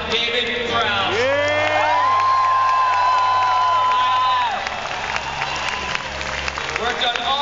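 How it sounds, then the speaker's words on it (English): A crowd at the Star Wars Celebration IV opening ceremony claps and cheers, with whoops and excited voices rising over a steady background, lively and sustained throughout. "Special applause for Darth Vader himself, David Prowse."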